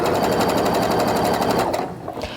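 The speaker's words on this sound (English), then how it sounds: "I'm just going to arrange them right sides together and sew" A sewing machine runs fast and steady as quilt pieces are stitched right sides together. The needle's rapid rhythmic chatter is close and loud for about two seconds, then slows and stops.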